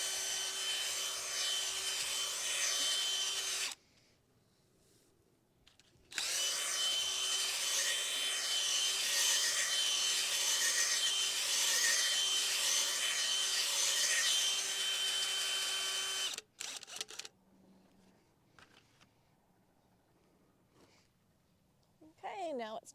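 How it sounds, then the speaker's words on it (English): Power auger churning compost into garden soil, a loud continuous grinding whir in two long runs broken by a brief pause, ending with scattered rustles and knocks. "And I like to mix it all up with my auger."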